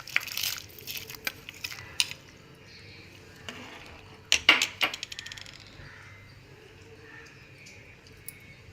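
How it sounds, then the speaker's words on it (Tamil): Dry urad dal rattles and patters into a pot in a few quick bursts, with scattered small clicks in between, fairly quiet. "இப்போ உளுந்து போட்டுக்கோங்க."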